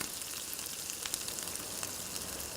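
Ground tomato hits frying onions in a pan for a restaurant-style pepper chicken fry, producing a brief, steady bright sizzle at moderate volume with a few soft pops, with no talk over it.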